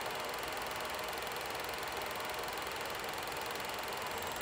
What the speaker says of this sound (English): this projector runs very, very smooth and very, very quiet